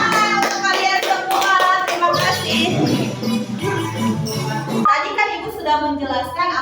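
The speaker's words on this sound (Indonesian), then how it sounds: "tepuk tangan untuk kalian semua" Schoolchildren in a classroom clap their hands together in a rhythmic pattern, the claps sharp and close amid children's voices, with a low hum and other sounds mixed in partway through.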